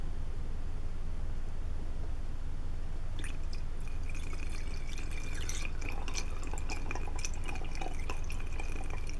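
Liquid is poured out for a homemade glass-window cleaner, a thin trickling stream with little drips that starts partway in and keeps running over a steady background hiss.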